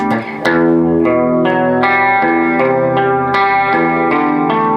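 Brighter electric guitar on its bridge pickup with effects strums a string of sustained chords and notes, each attack crisp and the sound loud and continuous.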